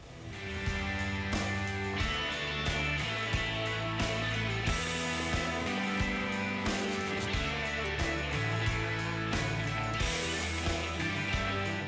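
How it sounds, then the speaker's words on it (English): Nuts are tightened onto bolts rising through the bottom plate of a JOYTUTUS cargo rack, a close rhythmic series of ratcheting clicks and metallic turns repeating steadily, with no talking. "the bolts are going to come up from the bottom side, and then you simply secure them with the nylon bolts"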